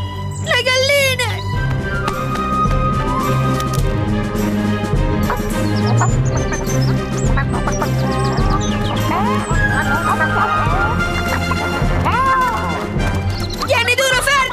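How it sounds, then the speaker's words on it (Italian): Hens cluck and squawk amid a busy, noisy scene of crashes, music and excited Italian voices in an animated cartoon, with the birds briefly prominent at the start and end. "Per la miseria, lì no! Le galline!"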